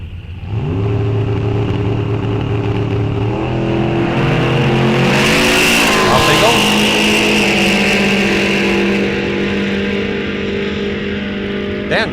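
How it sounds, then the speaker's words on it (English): A 1969 Plymouth Barracuda and a 1969 Chevelle launch off the line at a drag strip, loud muscle-car engines roaring and revving up through the gears, close and sustained before easing as they pull away. "Dan Grohl coming out left side in that 69 Barracuda. Dave Meyer in the 69 Chevelle."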